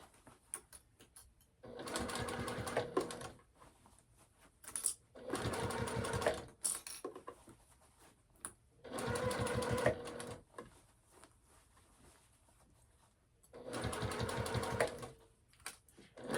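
Four distinct runs of a sewing machine backstitching a clutch seam, each a few seconds of fast, even needle chatter separated by quiet pauses with small handling clicks, close and clear.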